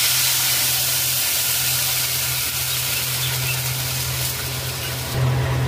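Plain water poured into a hot cooking pan with rice hisses steadily over a low, constant hum. The hiss continues throughout and swells briefly near the end, with no one speaking.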